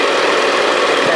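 Light aircraft engine in the Fonz GF1, a loud, steady, close droning hum inside the cockpit as the RPM is reduced, with no talking.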